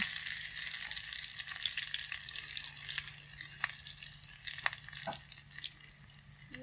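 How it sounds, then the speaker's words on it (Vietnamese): Garlic sizzles steadily in hot oil in a pan, a dense, continuous hiss close at hand with small pops and occasional scraping stirs, and no talk over it. "Phi tỏi thì nó vàng"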